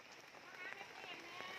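Rain patters steadily on surfaces at a riverside forest-goods market by the Mekong, a dense, even wash of drops with a voice talking over it.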